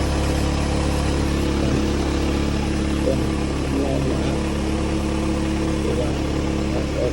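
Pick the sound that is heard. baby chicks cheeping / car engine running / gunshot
car engine running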